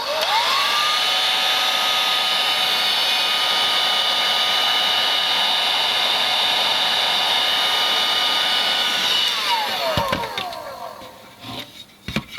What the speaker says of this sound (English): it pays to heat it up a little bit with the heat gun